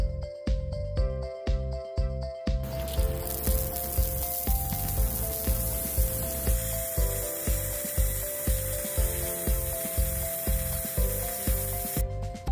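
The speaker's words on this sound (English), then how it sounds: "Connect up the compressor and drain each zone." An air compressor forces water out of irrigation zone drains while winterizing a FEBCO 765 pressure vacuum breaker: a steady, loud rush of hissing air over a regular pulsing thump from the running compressor throughout.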